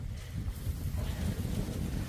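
Wind gusts buffet the microphone in low, rumbling bursts, constant and close, with no voices, in a garden outdoors.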